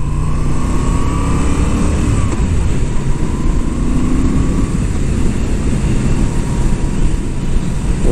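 A 2022 Moto Guzzi V7 850 Special engine pulls hard from low revs while riding, a loud continuous rumble with rising tones under heavy wind rush and no voices.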